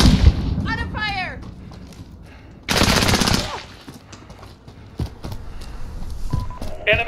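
Automatic rifle fire in Call of Duty Modern Warfare, a Kill Confirmed match with an M13, loud bursts of shots amid game effects and a brief radio-style callout, with a heavy volley near the middle and scattered shots after.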